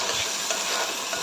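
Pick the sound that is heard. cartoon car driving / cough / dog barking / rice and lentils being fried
rice and lentils being fried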